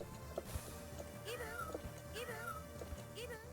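Cartoonish cat meows from a Capcom Fighting Collection fighting game, several short rising-and-falling cries repeating over busy game music and effects.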